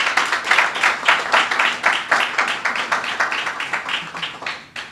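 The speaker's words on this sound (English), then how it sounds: "I want you to give the institution a round of applause this morning" Audience at a Barbados National Standards Institution conference applauding the institution, a sustained round of clapping with an even, rhythmic pulse from a moderately sized crowd, fading slightly at the end.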